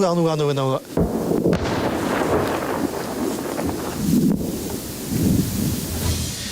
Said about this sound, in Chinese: 直击一枚铁穹就在眼前发射，快到镜头根本就追不上。